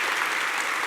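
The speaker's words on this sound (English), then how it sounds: "So I'm going to personally applaud right here" Dense, steady applause fills the whole short stretch at a livestreamed public talk on quantum reality, space, time and entanglement, a continuous close wash of clapping with no voices over it.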